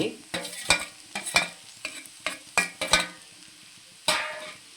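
Okra pieces fry with chopped onion in a pan, and a spatula stirs them in quick, distinct scraping strokes over a soft sizzle, then pauses before one last stroke.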